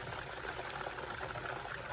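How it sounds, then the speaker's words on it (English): A quarter cup of hot sauce pours in a short, steady liquid stream while homemade barbecue sauce is being mixed, with no voices over it. "a 1/4 cup of hot sauce I'm gonna pour in"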